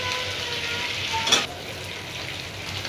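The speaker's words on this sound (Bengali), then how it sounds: "এবারে অপর পিঠটাকেও আমি 1 থেকে 2 মিনিট একটু ভেজে নিব।" Pieces of hilsa fish frying in hot oil, a steady close sizzle with a brief louder crackle burst midway, heard on its own without talk.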